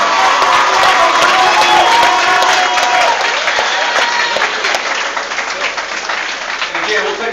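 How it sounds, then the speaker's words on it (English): A round of applause with cheering and whoops from a crowd at a high school National Signing Day, loud and sustained throughout before gradually thinning toward the end. "let's give him a round of applause"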